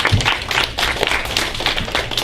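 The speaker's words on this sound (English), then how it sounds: "All right, give him a round of applause." Brief clapping for a speaker at a student debate on self-driving cars, a short run of rhythmic hand claps from a small group, fairly close and even.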